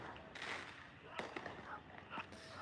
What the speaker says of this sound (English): Look at they're shooting fireworks off.